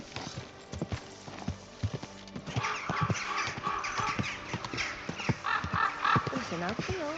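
Rhythmic clip-clop of horse hooves on a path in Kingdom Come: Deliverance II, steady and fairly close, with a voice talking over the steps and a brief snort or whinny.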